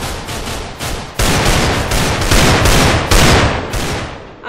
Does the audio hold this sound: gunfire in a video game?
yes